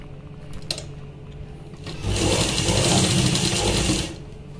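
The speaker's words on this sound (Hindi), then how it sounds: "यहाँ पे आधा इंच की सिलाई लगा के पूरे शोल्डर को जोड़ लेंगे आपस में" Electric sewing machine stitching a half-inch seam joining the shoulders of a kurta, running in one steady close whir for about two seconds after brief handling noises, with no talk.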